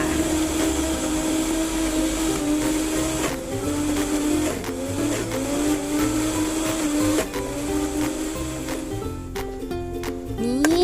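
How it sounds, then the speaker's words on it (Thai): Blender whirring loudly and continuously as it purees Nesvita frappe ingredients in its jar, the motor pitch wavering and shifting as the contents churn, with no speech over it. "นำส่วนผสมในโถนะคะ ไปปั่นก่อนค่ะ"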